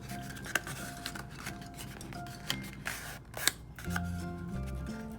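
Scissors trimming the corner off a paper treat bag: a few crisp snips and paper rustles close by, followed by a brief crinkle of handled paper, no talking.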